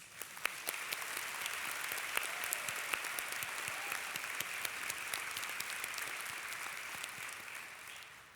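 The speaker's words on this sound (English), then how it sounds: "you deserve a round of starting applause" A large graduation ceremony crowd applauds without pause for over eight seconds, a bright, even roar of many hands clapping from a distance.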